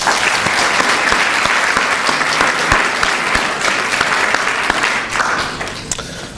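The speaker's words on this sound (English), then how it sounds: "so I want to give them a round of applause" A room full of people applauds children at the launch of the Genesis Programme, loud, dense clapping that stays strong and then tapers off near the end.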